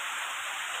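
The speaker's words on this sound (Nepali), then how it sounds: "बाहिर चाहिँ ठुलो पानी पर्दैछ" Heavy rain pouring down outside a village home, a steady, dense hiss with no break, close and even in loudness throughout.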